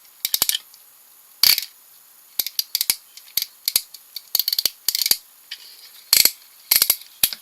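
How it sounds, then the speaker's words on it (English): Broken ratchet in the arm of a Transformers Generations Roadbuster toy: dry plastic clicks and snaps come in irregular bursts and single ticks as the joint is worked, close and crisp with no talking. "the ratchet in this arm seems to be broken"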